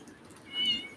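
Outdoor cats give a single short meow during a hurricane in southwest Georgia, heard outside against a steady background of wind and storm noise.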